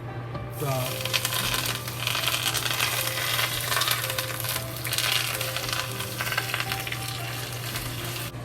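Hot oil poured over a steamed fish fillet sets off a loud, steady crackling sizzle that carries on close and continuous, with faint clinks at the start.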